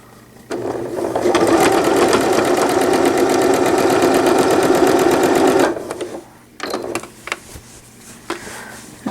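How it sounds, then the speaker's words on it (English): A sewing machine runs steadily for about five seconds as it stitches the casing of a newborn gown. It then stops, leaving a quieter stretch of fabric handling and small clicks. "So I'm going to sew this casing almost all the way."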